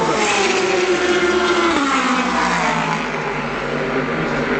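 A Le Mans prototype race car at the 2013 24 Hours of Le Mans pulling into its pit stand, its loud, close engine note holding a high whine and then dropping in pitch as it slows, with no talk.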